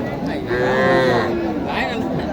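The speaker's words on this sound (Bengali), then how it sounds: "এটা শাহিওয়াল একটা গরু" A Sahiwal cow gives one long, loud, drawn-out moo close by at a busy rural cattle market, against a steady background of crowd chatter.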